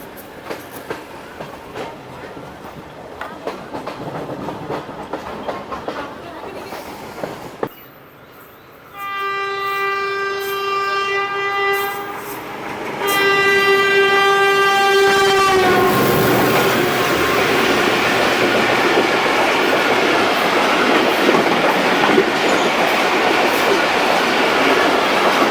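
A Pakistan Railway train races past at high speed, its horn blaring in two long blasts before a loud, sustained rushing roar of wheels and carriages takes over at close range.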